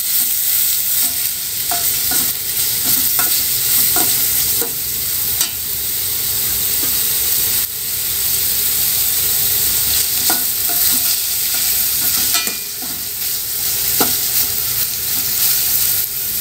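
Chopped onions and green chillies frying in a pan with steady sizzling throughout, as a utensil stirs and scrapes at an irregular rhythm, fairly loud and close with no talking.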